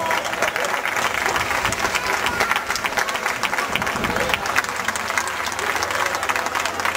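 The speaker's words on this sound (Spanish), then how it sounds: "Un aplauso, por favor," Crowd applauding the mayor at the opening of a medieval fair in Teatinos, steady dense clapping throughout with some crowd noise and a low engine-like rumble underneath.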